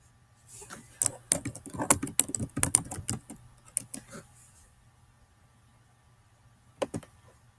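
Computer keyboard typing of a name, a close flurry of quick key clicks for several seconds, then near silence before a final short burst of keystrokes.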